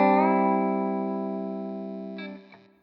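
An electric guitar string is bent up to the third in a country style, ringing as one distorted note with chorus and reverb that slowly fades over a few seconds and ends in a faint scrape.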